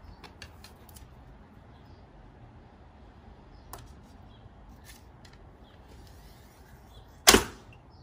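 An arrow is loosed from a Paragon Khan bow in one sharp, loud release near the end, after a long stretch of quiet background with faint small clicks.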